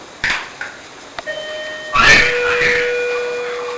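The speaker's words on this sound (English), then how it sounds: "Okay, so there was the bell again." A counter service bell is struck in an empty room, giving a bright metallic ding whose tone rings on for a couple of seconds, followed by a rustling clatter and a second ringing tone that fades slowly.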